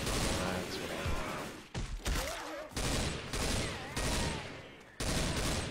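Video game gunfire in bursts of rapid automatic shots, loud and close, with short pauses between volleys and people talking over it.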